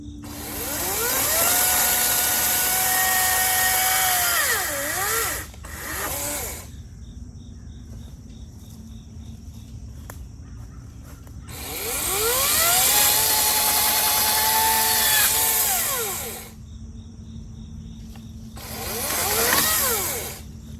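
A chainsaw revs loudly in two long bursts, its engine whining high as it bites through wood, dropping to a rough idle between cuts.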